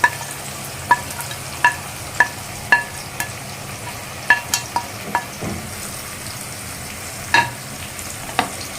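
Ginger-garlic paste and turmeric powder fry in a pan with reddened onions for a chicken dish, a low sizzle under repeated sharp metallic clinks of a spoon striking the pan.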